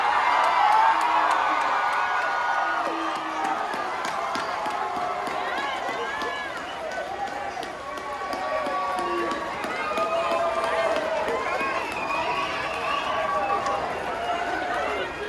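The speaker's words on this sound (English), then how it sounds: "All right, let's clap it up, clap it up." A graduation crowd for a high school class of 2021 claps and cheers continuously, a dense wash of applause with whoops and shouts rising and falling, voices mixed in throughout.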